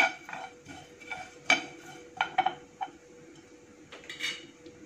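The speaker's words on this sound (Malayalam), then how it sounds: "വേറെ ഒന്നും ഈ വറുക്കുന്ന തേങ്ങയിൽ ഞാൻ ചേർക്കുന്നില്ല. നന്നായിട്ട് വറുത്തെടുക്കാം." Grated coconut roasting with cumin in a pan, heard mainly as irregular light scrapes and clinks of a spoon against the pan over a faint background.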